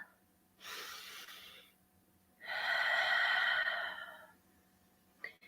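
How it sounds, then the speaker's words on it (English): Two slow, deep breaths drawn in during a quiet evening prayer, each a soft airy inhalation lasting over a second, close and gentle against near silence, with a faint click at the end. "just take a deep breath in"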